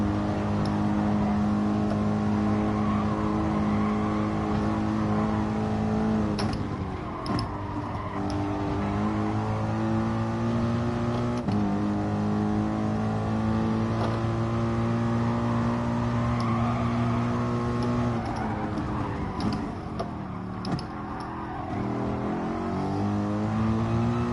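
Race car engines in the Forza racing game, a loud continuous engine drone with harmonic tones sliding up and down as the car accelerates and eases off, steady throughout.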